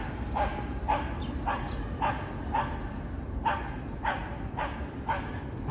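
On a busy Toronto city street on a hot Friday night, a dog barks about nine times in a loose, steady rhythm at other dogs, fairly close and sharp over a rumbling street background.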